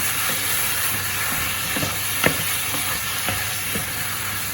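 A steady sizzling hiss from a hot pan of tomato sauce, with a few soft scraping strokes of stirring scattered through it.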